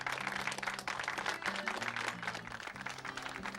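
Crowd applause from the visual novel Flowers, a steady wash of clapping layered over gentle background music with soft sustained tones, continuous for the whole stretch.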